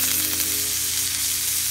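Venison backstrap sears in a hot pan just after being flipped, giving a loud, steady, close sizzle that runs unbroken with no talking.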